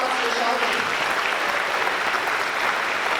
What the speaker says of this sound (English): Round of applause for Shelby.